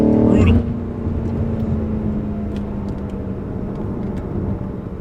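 A BMW M5 CS engine roars under steady acceleration, a continuous low hum with rising drone, close and loud, after a brief burst at the start.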